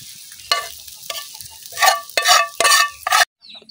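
Small shrimp fry in a pan with a loud sizzle, broken by bursts of stirring and scraping, before the sound cuts off abruptly to near silence.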